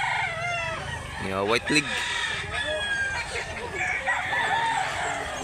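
A gamecock stag rooster at Mantalungon, Barili, Cebu crows once in a loud, rising call, with people talking and background chatter throughout.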